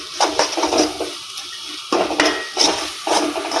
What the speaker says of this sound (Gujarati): બધી જ વસ્તુને મિક્સ કરી ધીમો ગેસ કરી તેને 2 થી 3 મિનિટ રહેવા દઈશું